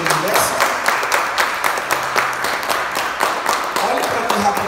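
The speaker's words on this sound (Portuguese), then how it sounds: "Você pode aplaudir o Senhor em nome de Jesus, que ele merece." A church congregation applauds for the Lord during a service, a steady wash of dense clapping with irregular sharper peaks that runs at an even, fairly loud level throughout.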